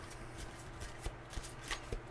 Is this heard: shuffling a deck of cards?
yes